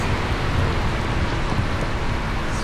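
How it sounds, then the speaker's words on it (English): Heavy rain pouring during a motorbike Uber ride in Bangkok, a loud, continuous broadband hiss with no talking, steady and unbroken from start to finish. "It's raining deeply."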